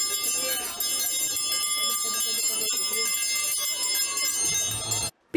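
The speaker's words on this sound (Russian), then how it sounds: "Первый школьный звонок пригласил учеников поближе познакомиться со школой." An electric school bell rings for the first time at the opening of a new education centre in Saransk. It gives a loud, continuous, metallic ring that holds steady for about five seconds, then cuts off abruptly.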